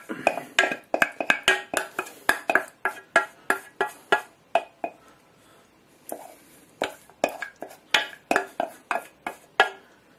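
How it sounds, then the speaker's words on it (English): Cheese sauce is stirred into pasta in the same pan, with a quick run of sharp metallic clinks and scrapes of utensil on pan, pausing briefly before resuming. "In goes the cheese sauce. Straight into the pasta. Use the same pan."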